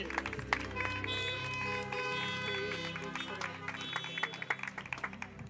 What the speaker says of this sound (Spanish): Denle fuerte aplauso al Señor